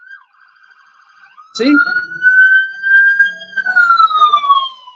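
An emergency vehicle siren wails nearby with a long, rising and falling tone that starts faintly, then swells loud. A brief spoken word cuts in just before the siren grows louder.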